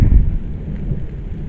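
A nighttime thunderstorm fills the air with a loud, deep rumble of thunder that swells at the start and then rolls on under a steady wash of rain.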